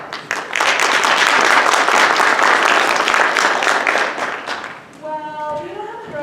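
School play audience at a Fremont High School production of A Midsummer Night's Dream bursting into loud, sustained applause that fades after about five seconds as voices resume on stage.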